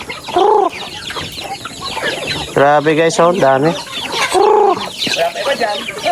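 Chickens clucking and squawking up close in a busy flock while being fed, with a person exclaiming excitedly over the birds.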